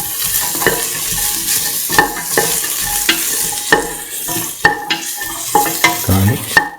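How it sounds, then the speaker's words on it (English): Ginger is stirred into duck frying in a pan, a constant sizzle broken by repeated sharp scrapes and clinks of the utensil against the pan, close and alone. "Mix thoroughly. Put in the ginger,"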